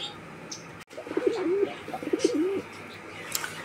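A pair of fancy pigeons coo close by, two rolling, wavering coos in quick succession over quiet room noise, with no talking.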